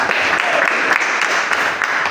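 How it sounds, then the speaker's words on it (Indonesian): Participants at an Indonesian teacher-coaching session applaud together. The clapping is loud, continuous and fairly dense from start to finish. "kita tepuk tangan"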